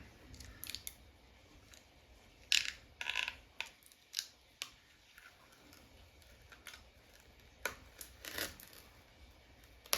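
Metal part being peeled off an arcade coin door around its rivets during a Satan's Hollow cabinet restoration, heard as scattered faint clicks and snaps with a few sharper metallic ticks over a quiet background.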